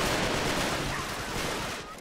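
Dense, continuous gunfire in the action game Uncharted 3: Drake's Deception, a steady rattling wash of shots at even loudness with no clear pauses.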